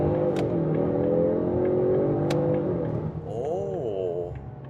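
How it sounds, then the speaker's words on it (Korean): A Ford Mustang convertible accelerates in its loudest exhaust mode, a steady deep engine drone from inside the open car that swells into a rising and falling rev as it shifts gears near the end. "지금 확실히 배기음도 스포츠 모드보다도 훨씬 더 커졌고"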